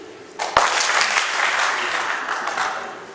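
Advisory board members at a startup pitch day opening ceremony are honored with one sharp collective clap, followed by a wash of scattered applause that lingers and slowly tapers over a few seconds.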